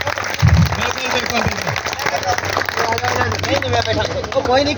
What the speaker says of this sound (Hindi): एक बार जोरदार तालियों के साथ स्वागत किया जाए